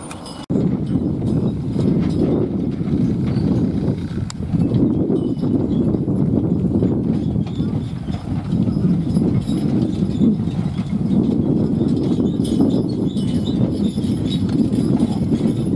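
Horse hooves clip-clop steadily as a horse pulls a horse-drawn road grader along a road, a continuous rhythmic clatter mixed with rumbling equipment noise, close and fairly loud throughout.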